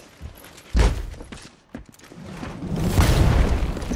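An explosion in the tactical video game XCOM Chimera Squad hits with a deep boom, then a rumbling, swelling blast builds in the second half over crackling debris.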